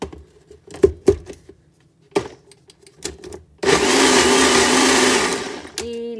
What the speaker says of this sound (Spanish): Volvemos a batir muy poco porque las levaduras no se deben de batir mucho